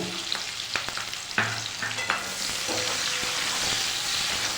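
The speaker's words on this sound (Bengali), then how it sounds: "এবার ওই একই তেলে আমি কেটে রাখা পেঁয়াজ দিয়ে দেবো পেঁয়াজ কাঁচা লঙ্কা দিয়ে দেবো হালকা করে ভেজে নেব" Onion and green chilli frying in hot oil left over from fried fish, with a steady broadband sizzle building and a few sharp stirring clatters early on, no voices.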